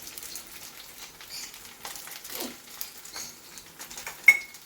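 Faint, gentle sizzling of a semolina breakfast frying in a pan, a soft crackle and patter with a brief sharper clink near the end, quiet and unaccompanied by talk.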